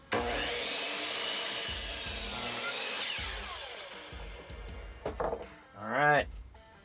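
A wooden board for a DIY Toyota Tundra truck bed divider being cut to length with a saw, a steady rasping stretch ending in a few short bursts of cutting near the end.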